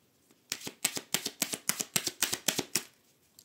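Tarot cards shuffled by hand in a rapid rhythmic series of about a dozen crisp riffling bursts, close and fairly loud, with no talking.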